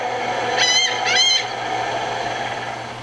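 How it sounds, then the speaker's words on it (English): Seagulls call twice in quick succession from a seaside scene in a children's read-aloud sound book, two short bright squawking bursts over a soft background hum. "Down by the sea, a little boat toots its horn as the seagulls call."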